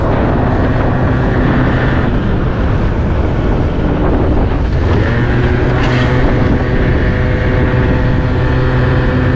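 A stock, unrestricted MBK Nitro scooter with 21,000 km rides into a headwind, producing a loud, continuous roar of wind buffeting the microphone over the engine drone, steady from start to finish.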